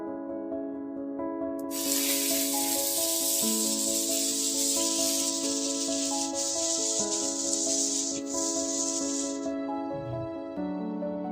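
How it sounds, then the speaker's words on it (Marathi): Slices of bread dipped in curd batter are laid on a hot griddle, setting off a bright sizzling hiss that begins suddenly, holds steady for several seconds and then fades, all over continuous background music. "आपला बॅटरमध्ये बुडवलेला ब्रेड तव्यावर ठेवणार आहोत"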